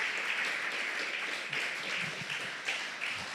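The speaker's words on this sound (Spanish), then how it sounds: "¿Puedes darle fuerte ese aplauso?" A church congregation claps and applauds during a service, a dense even wash of clapping throughout, slightly distant.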